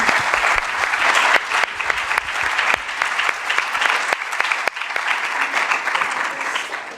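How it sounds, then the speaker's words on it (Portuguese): An audience at a university engineering lecture applauds at length after the talk, with dense, sustained clapping across the whole stretch, loud and close with a few sharper individual claps standing out. "Vou pedir mais um aplauso pela palestra."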